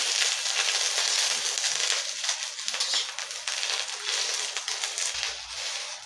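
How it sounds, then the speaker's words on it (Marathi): Green chillies roast in oil in a pan with a dense, steady crackling sizzle that stays bright and fairly loud throughout, without any speech. "तर याच्यात आपल्याला अर्धी पळी असं तेल घालायचं आणि मस्त अशी भाजून घ्यायची."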